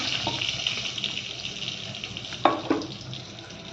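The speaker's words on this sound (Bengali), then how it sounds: "আস্তে আস্তে মিক্স করবো জল দিয়ে।" Chaat masala being mixed with water in a bowl: a soft wet swishing with a faint hiss, ending in a couple of sharper scrapes, close by and without voices.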